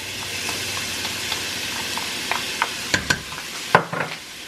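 Onions and garlic sizzling with spicy Italian sausage in a pot, a steady close frying hiss broken by several sharp scrapes and clanks of a spoon stirring toward the end.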